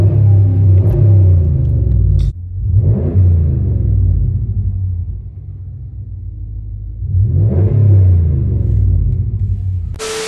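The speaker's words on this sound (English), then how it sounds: "Let's listen to my cousin's exhaust and see what it sounds like." A car's aftermarket exhaust revs in a driveway, deep rumbling idle broken by two rising, throaty revs, loud and close with no talking.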